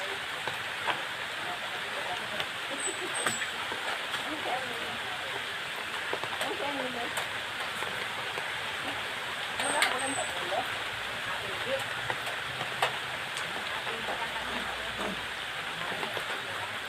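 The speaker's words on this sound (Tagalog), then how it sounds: "Nabot na ako ng ulan guys. Ulan na naman po." Steady rain falling, a dense soft patter with scattered louder drops, heard at a moderate distance throughout.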